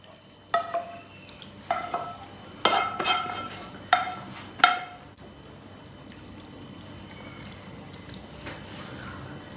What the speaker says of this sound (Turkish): Hemen sosunu ilave ediyoruz.